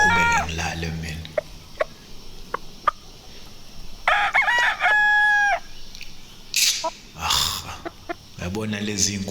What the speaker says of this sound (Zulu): Yabona lezi inkukhu kamakhelwane bangisicefe.